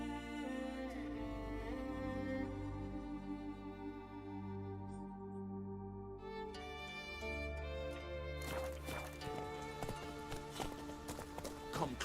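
Roach, Geralt's horse in the video game The Witcher 3: Wild Hunt, gallops in a steady clip-clop of hooves, carried under a continuous swell of tonal game music, with a few sharper strikes near the end.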